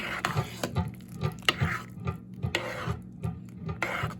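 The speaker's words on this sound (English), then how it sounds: "Let's give it a stir." A spoon stirs Moroccan lentil soup in a crockpot with a steady rhythm of soft scraping and clinking against the pot, close and moderately loud, repeating about every half second with no talk.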